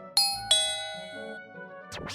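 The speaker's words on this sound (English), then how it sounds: "the doorbell rang" A doorbell rings with two bright chime strikes in quick succession, each decaying slowly, followed by a brief muffled knock-like sound near the end.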